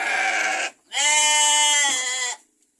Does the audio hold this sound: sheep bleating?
yes